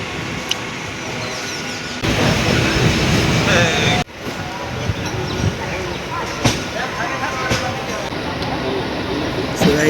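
A train pulls into Taki railway station, a dense, steady broadband rumble of wheels and carriages, loud and close, with people talking on the platform.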